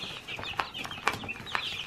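Chickens on a farm cluck softly in a few short, scattered calls, close by and otherwise fairly quiet.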